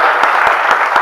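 A crowd applauds for a Hindi comedy poet on stage, a loud, dense burst of clapping that fills the whole moment without pause.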